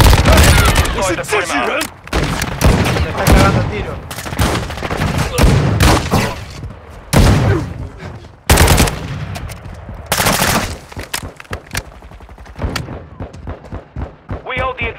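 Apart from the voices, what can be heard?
gunfire in Warzone Mobile video game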